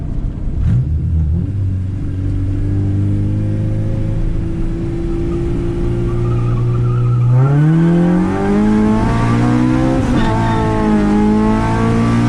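A K24-swapped Honda Integra accelerates hard through the gears, engine revving in rising sweeps with short shift breaks while the tires squeal continuously, loud and close.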